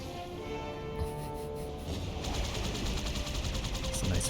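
Steady automatic gunfire in Halo, fired at Wraiths, with a fast rhythmic stream of shots that grows louder and denser midway through, close and continuous.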